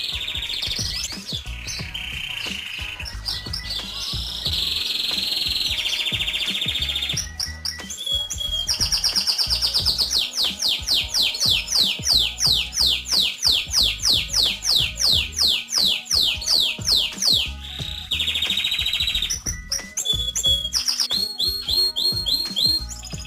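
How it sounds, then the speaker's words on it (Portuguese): Belgian canaries, including a four-year-old male, sing nearby in continuous rapid trills and chirps, with bright whistled phrases repeating in steady bursts for over twenty seconds. "ele é um canário já de 4 anos comigo"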